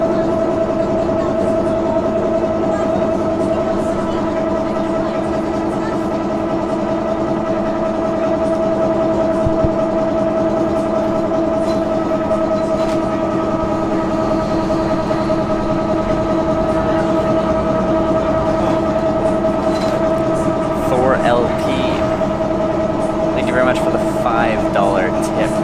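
A tram riding through Porto rumbles steadily with a constant low motor hum and droning tone, wheels and rail noise continuous throughout, loud and close from inside the car.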